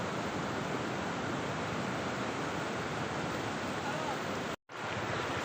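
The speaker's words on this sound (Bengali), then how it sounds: "এই যে পিছনে অনেক ঢেউ আসছে এই যে।" Sea waves break on the beach at Cox's Bazar in a loud, continuous roar of surf and wind that fills the clip, cutting out for a brief moment near the end.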